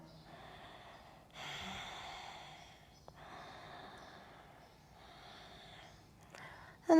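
Slow, deep breathing during a yoga Malasana squat: soft, close inhales and exhales in long breathy swells with quiet gaps, and a faint sharp sound at the very end.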